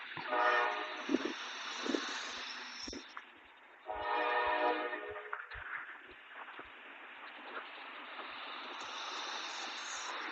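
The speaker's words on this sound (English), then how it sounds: "that one train that was sitting there is starting to move." A train rumbles and hisses as it begins moving in Columbus, with a loud horn blast at the start and again midway, plus occasional clanks, fairly distant.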